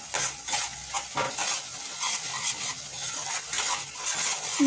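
A spoon stirs paneer masala with yogurt and kasuri methi in a pan, making soft repeated scraping and light sizzling at a steady, close, moderate level with no talk.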